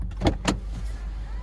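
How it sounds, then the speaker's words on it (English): Driver's side power window on a 2008 Honda CR-V EX closing: two quick soft knocks, then a steady low motor hum that runs evenly to the end, close by inside the car. "Go ahead and roll up the automatic driver's side window."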